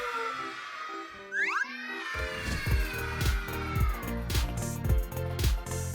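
Cartoon cat meows with a bright, sliding cry, followed by a repeated bouncy musical accompaniment; the cat sound stands out near and clear, no talk heard.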